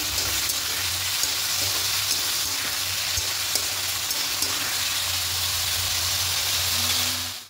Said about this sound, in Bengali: এবার ডালটা দিয়ে খুব ভালো করে সবজির সঙ্গে আরও 2-3 মিনিট একটু ভেজে নেব।